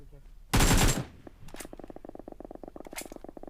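Automatic AKM rifle spray in the mobile battle royale game BGMI: a loud, dense half-second burst of gunfire followed by a rapid, steady stream of quieter shots and clicks continuing through the rest.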